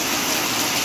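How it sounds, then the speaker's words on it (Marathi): Heavy rain pours down in Konkan, a dense, steady broadband hiss like water drumming on surfaces and gushing, continuous and fairly loud throughout with no voices. "एवढं जोरात पाऊस आलाय बघा"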